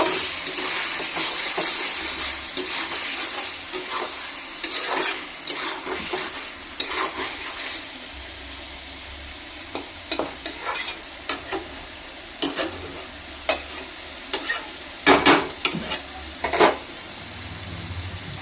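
Tangra fish and potatoes fry in a pan for a dry-fish and eggplant curry, a constant close sizzle broken by repeated metallic clinks and scrapes of stirring, clustering more densely toward the end.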